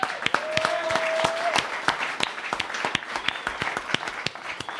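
An audience applauds at a live music night, with a steady wash of many hands and sharp individual claps that sound fairly close, alongside a brief whistle and a few cheers.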